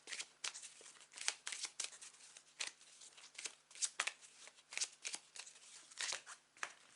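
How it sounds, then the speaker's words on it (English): Tarot cards are handled and shuffled close up, giving a run of sharp papery flicks and slaps in an irregular rhythm, with quiet pauses between bursts and no voice. "And I drop the whole pile of cards."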